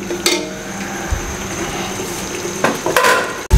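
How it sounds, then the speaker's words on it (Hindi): Turnip and peas cooking in a pan over a high flame, with a steady close sizzle and bubbling as the leftover water boils off, plus a few brief clatters of stirring. "ये देखिए फ्लेम तेज़ कर दिया और पानी भी खुश्क हो रहा है।"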